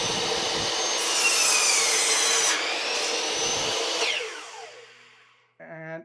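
A chop saw cuts through wood with a loud, whining rip lasting about four seconds, then winds down and fades, followed by a brief clatter at the end.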